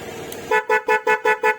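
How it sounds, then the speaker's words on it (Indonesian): A standard Denso car horn wired through a turn-signal flasher relay, blaring in rapid repeated bursts, about six loud pulsing honks in quick steady rhythm after a brief quiet start. "Suaranya jadi beruntun atau double."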